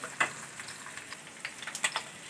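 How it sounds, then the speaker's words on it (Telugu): Green chilies and a small piece of ginger frying in a little oil in a pan give a quiet, steady sizzle with a few brief crackling pops scattered throughout. "అందులో కొద్దిగా ఆయిల్ వేసుకొని పచ్చిమిరపకాయలు కొన్ని, అలాగే 1 అల్లం చిన్నది, దీన్ని బాగా ఫ్రై చేసుకోవాలి."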